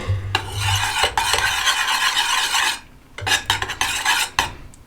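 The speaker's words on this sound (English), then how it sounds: "we're going to give this a really good stir" Melted tallow lip balm with essential oil stirred briskly in a bowl, with close scraping and clinking of a utensil against the sides in bursts, a short pause near the middle, then more stirring strokes.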